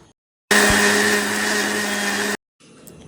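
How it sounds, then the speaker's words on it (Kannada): Kitchen mixer grinder coarsely grinding garlic, grated coconut and cumin: a steady loud whirring motor runs for about two seconds after a sudden start, then cuts off abruptly, leaving quiet room noise. "ಈಗ ಮಿಕ್ಸಿ ಜಾರಿಗೆ ಸ್ವಲ್ಪ ಬೆಳ್ಳುಳ್ಳಿ ಆಮೇಲೆ ತೆಂಗಿನ ತುರಿ ಒಂಚೂರು ಜೀರಿಗೆ ಹಾಕಿ ತರಿ ತರಿ ಕಡಿಯುವ"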